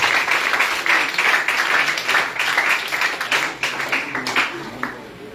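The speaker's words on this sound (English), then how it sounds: "Please give yourselves a round of applause." A crowd applauds steadily, a dense wash of clapping that tapers off toward the end.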